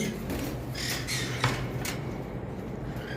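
Red-eyed albino lovebirds squawk in a series of sharp, repeated calls over a constant hum, fairly close and lively, with no talk.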